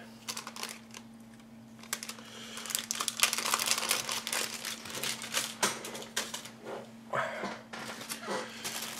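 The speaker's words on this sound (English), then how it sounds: "Next up, a resealable bag." A resealable plastic bag of parts from a Gecko Models Cruiser Tank A10 Mk. 1A kit is handled close up, with crisp crinkling in irregular bursts over a faint steady hum.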